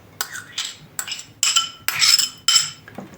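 A fork spreading and levelling layers of Mimosa salad (potato, onion, canned fish) in a dish, with several short scraping clinks against the dish in quick bursts, close and clear with no talking.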